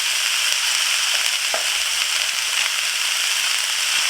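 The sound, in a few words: cauliflower and broccoli frying in a stir fry pan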